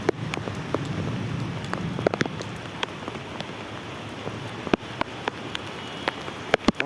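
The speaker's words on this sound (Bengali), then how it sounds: "বৃষ্টিটা একটু কমে গেল।" Light rain patters on surfaces outdoors as a shower eases off, a soft hiss of drops broken by scattered sharper taps, fairly faint and steady with no voices.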